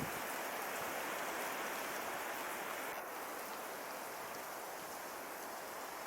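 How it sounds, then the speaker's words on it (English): A thin trickle of water falling in the Australian bush rainforest, a small waterfall just forming, gives a steady, even hiss of splashing water that stays close and constant throughout, with no voices. "It is quite fascinating to watch the wind and the light play with this trickle of water."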